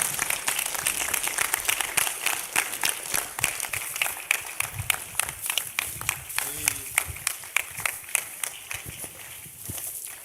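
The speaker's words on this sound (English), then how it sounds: "Ladies and gentlemen, a round of applause." An audience at a health talk claps in welcome for a speaker. The applause is moderately loud, with distinct individual claps that gradually thin out, and a brief voice can be heard partway through.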